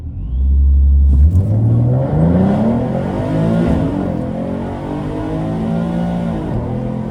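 A procharged 2014 Mustang with a 3.7L V6 launches hard at a drag strip, its engine roaring close and loud, then rising through the revs with a supercharger whine as it pulls away.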